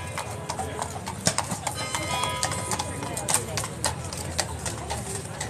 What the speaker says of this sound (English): police horses come through here